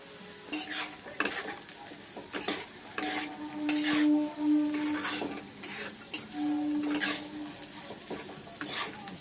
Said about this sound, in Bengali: এর মধ্যে গাজর আর আলুগুলো দিয়ে দেবো দিয়ে ভেজে নেব